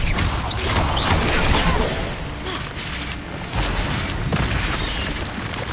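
A fire spell cast in the Hogwarts Legacy video game erupts as a loud, sustained whooshing roar with booming, crackling bursts that churn steadily for several seconds with no talk.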